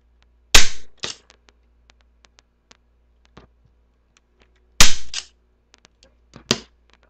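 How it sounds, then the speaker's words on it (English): Two loud, sharp staple-gun shots fastening a tassel onto a wooden flower stick for juggling, each followed by a smaller clack, with faint ticks and handling clicks scattered between and no talking. "I'm taking the tassel here and I'm going to staple it in place as well"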